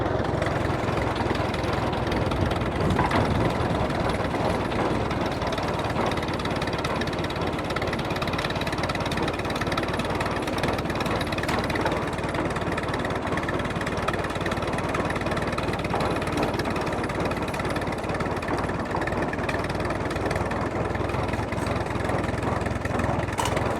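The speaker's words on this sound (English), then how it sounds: "Real smooth running tractor." A 1953 Allis Chalmers WD45 tractor engine idles steadily and loudly up close, a constant rumbling chug with no pauses throughout.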